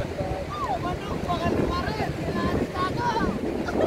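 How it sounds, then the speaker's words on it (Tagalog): Strong wind buffets the microphone in a steady, loud roar on a boat, with boat and water noise underneath and scattered high chirps over it. "sobrang lakas ng hangin"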